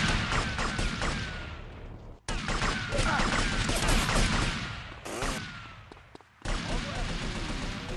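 Rapid bursts of gunfire crackle loud and close in the Definitive Edition of GTA Vice City, with several volleys broken by brief gaps.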